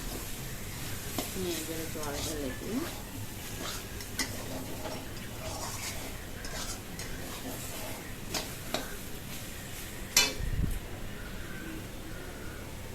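Soybean curry with oil and spices stirred in a pan by hand, scraping and soft sizzling clatter running steadily, with one louder knock of utensil on pan near the end.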